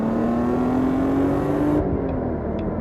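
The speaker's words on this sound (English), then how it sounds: "the engine gets that nice metallic rasp" A BMW M3 engine revs hard on a race track, a loud steady metallic rasp whose pitch climbs through a gear before the throttle lifts and the sound drops away, heard from inside the car.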